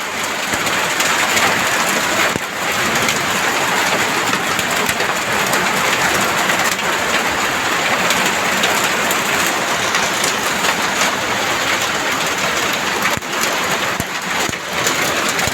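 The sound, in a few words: heavy hailstorm, hailstones falling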